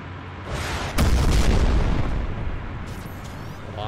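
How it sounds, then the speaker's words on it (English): Heavy rocket-launcher explosion in the shooter video game Crysis Remastered, a sudden loud boom with a deep rumbling tail that fades over a few seconds, preceded by a softer whoosh. "Good thing they just left these rocket launchers laying around."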